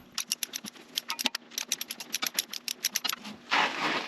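A long bolt is threaded and tightened on a homemade battery mount for a rat rod Chevy, with a rapid series of close, sharp ratcheting clicks, then a short burst of broader noise at the end.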